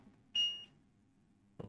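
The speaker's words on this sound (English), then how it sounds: "Let's check if we got a short somewhere. The beep mode, we have no short here." A multimeter in continuity mode gives a single short electronic beep while its probes test a Nintendo Switch circuit board for a short, followed by a faint click near the end.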